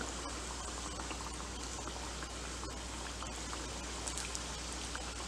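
Three donuts deep-frying together in hot oil over a medium-to-high gas flame, a steady dense crackle and bubbling fizz that runs continuously at close range with no voices.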